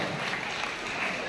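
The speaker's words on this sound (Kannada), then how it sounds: "ದಯವಿಟ್ಟು ಜೋರಾಗಿ ಚಪ್ಪಾಳೆ. ಕಮಾನ್ ಎಲ್ಲರೂ ಕೂಡ." Guests clap together at a child's birthday party, a steady broadband patter of applause lasting the whole moment, close and fairly loud with a hint of crowd voices underneath.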